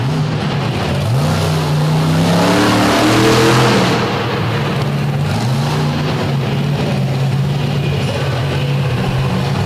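A monster truck engine revs hard on a dirt show track at DuQuoin, Illinois, its loud throaty roar climbing and falling in pitch through several throttle swells, close and continuous with crowd noise behind.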